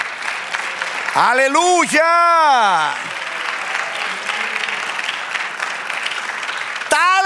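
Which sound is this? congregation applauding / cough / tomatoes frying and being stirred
congregation applauding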